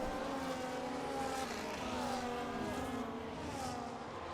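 Race car engines whine and rise in pitch as cars overtake one another on the Australia circuit in a racing game, a continuous layered drone of several close engines with shifting tones.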